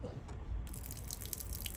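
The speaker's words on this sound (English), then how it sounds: "if you want to drain it out, you've just got to literally pull this out, pull down, and then it will just pour out" Flush fluid pours out of the toilet tank of an Autosleeper Symbol motorhome, a close, continuous splashing stream with dripping texture.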